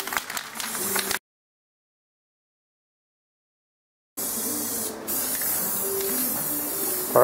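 Spray paint hisses from a can onto water while a skull is hydro dipped. A close, steady spray is followed by a few seconds of silence, then a second long, even blast.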